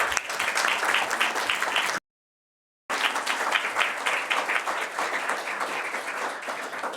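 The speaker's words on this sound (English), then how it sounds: "A round of applause for our fantastic moderator." An audience at a political debate on the future of young Europeans claps steadily and densely throughout. A short gap of silence breaks the applause near the start.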